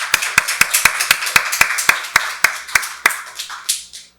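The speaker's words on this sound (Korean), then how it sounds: "박수로 하나님께 영광 돌리겠습니다." A church congregation at a Sunday worship service claps in unison, about a dozen loud, evenly spaced beats that loosen and fade toward the end.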